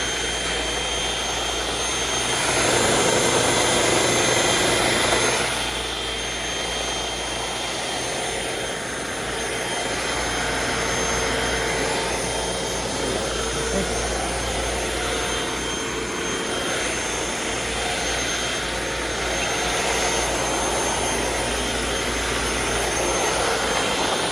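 An upright vacuum cleaner runs continuously at a thrift store, putting out a loud, steady motor whine and airflow roar with slight swells in pitch and level throughout.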